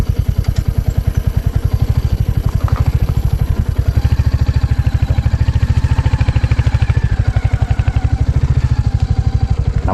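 A vehicle engine runs close by at a steady, loud idle, its low rhythmic chugging pulses continuing evenly throughout, with faint clatter and no talk.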